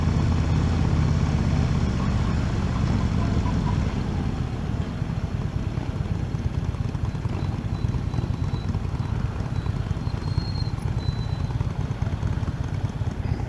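A 2016 Harley-Davidson CVO Road Glide Ultra motorcycle rumbles steadily while riding, a loud, continuous low engine drone with a pulsing texture and wind noise, without speech.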